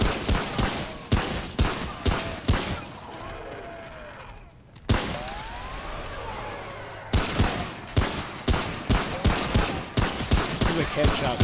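Rapid gunfire from the video game Remnant: From the Ashes rattles off in dense, punchy volleys, breaks into a hissing, rumbling lull midway, then resumes with sharp repeated shots.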